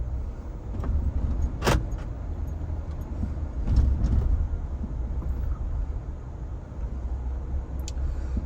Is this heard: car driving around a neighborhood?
yes